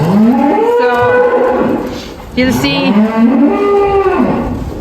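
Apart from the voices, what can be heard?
cattle mooing on a farm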